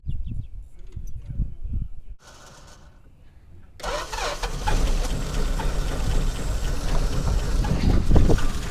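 A 1963 Dodge 330 V8, idle for 25 years, cranks briefly, then catches and runs with a loud, rough, sustained roar that swells toward the end.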